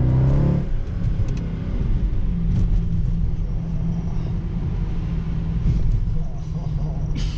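A Mercedes C63 AMG with ESP switched off sits at a standstill and is held at full throttle, giving a loud, sustained low engine roar throughout, with people's voices faintly mixed in.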